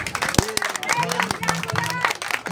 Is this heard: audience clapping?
yes